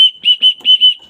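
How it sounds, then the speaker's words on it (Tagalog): Close, loud whistle blown in five quick bursts with a steady high pitch, the blasts separated by short gaps. "So, dito muna itong pito natin."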